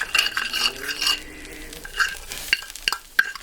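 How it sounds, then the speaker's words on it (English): A spoon stirs and scrapes across the bottom of a pot of gravy thickened with cornstarch, giving irregular close metallic clinks and scrapes with no talking. "We're going to pull up all those bits off the bottom."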